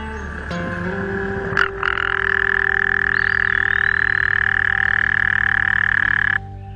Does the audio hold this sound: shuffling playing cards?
no